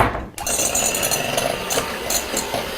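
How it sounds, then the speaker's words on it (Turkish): An electric hand mixer whipping egg whites switches on and whirs steadily at high speed, a continuous buzzing motor sound close by with slight variations as it works. "Mikserimi beğendin mi?"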